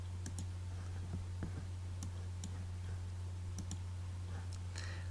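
Mouse clicks during a Photoshop CS6 tutorial on a computer, a few sharp, faint clicks scattered irregularly over a steady low electrical hum, with no talking.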